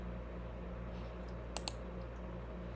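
Two quick mouse clicks, close and crisp, over a low steady hum from a computer running Synergy Viva homeopathy software.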